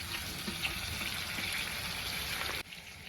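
Eggplant and peas fry in hot oil in a pan, giving a steady close sizzle and crackle that cuts off abruptly near the end, leaving a quieter hiss.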